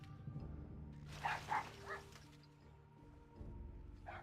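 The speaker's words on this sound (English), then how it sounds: "The dog barked!" A dog in the World of Warcraft video game gives a few faint yips and barks over a quiet game backdrop, with no talking.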